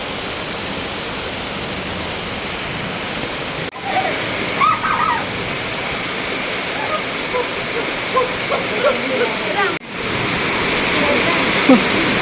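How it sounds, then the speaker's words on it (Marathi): Heavy rain pours steadily in the hills near Bhimashankar in a dense, even roar, close and loud, with scattered drips and splashes standing out now and then. "आता खूप मोठा पाऊस आहे"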